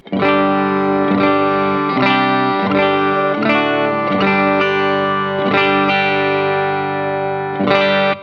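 A clean electric guitar strums a series of ringing chords through an Orange amplifier, each left to sustain before the next, steady and fairly loud with no voices.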